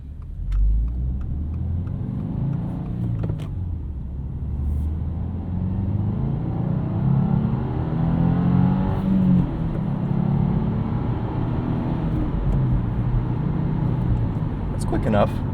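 A 2025 Subaru WRX tS boxer engine pulls under acceleration from inside the cabin, a muted, steady rumble with road noise and little drama, while a person talks over it.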